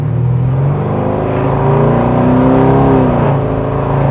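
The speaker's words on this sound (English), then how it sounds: "It just makes so much V8 noises." A deep, throaty LS3 V8 engine in a Chevy K5 Blazer rumbles steadily at close range, its pitch rising and falling slightly as it revs, with no talking.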